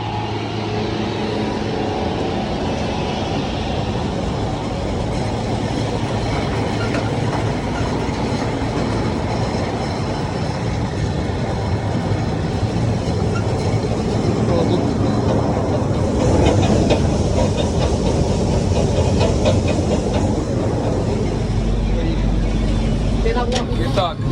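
A combine harvester threshing sunflower after desiccation gives off a loud, steady mechanical rumble and rattle that drones without pause, with voices talking over it.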